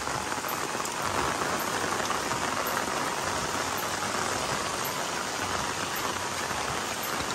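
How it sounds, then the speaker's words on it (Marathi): Steady, heavy monsoon rain falls outdoors in the countryside, a dense and unbroken hiss of drops on surfaces that holds at an even level throughout, with no voices. "पाऊस काय थांबत नाही"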